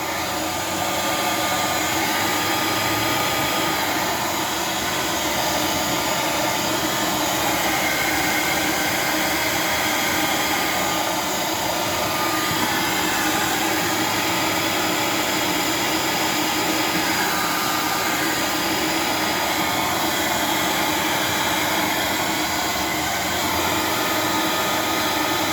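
Hot air gun heating an engine case for a 460 build produces a loud, steady, unbroken blowing roar throughout, with no pauses.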